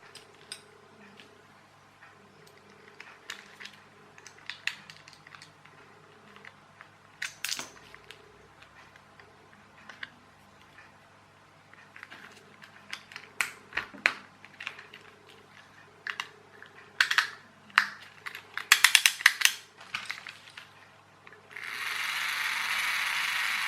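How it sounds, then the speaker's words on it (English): Small screws are driven back into a wire-controlled toy car, giving a series of close, faint ratcheting clicks and scratchy turns that grow busier toward the end, with no talk. "I'll better put the screws in first."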